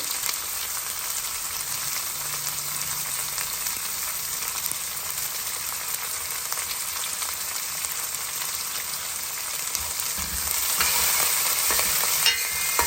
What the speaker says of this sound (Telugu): బాగా ఉల్లిపాయల్ని వేగనిద్దాము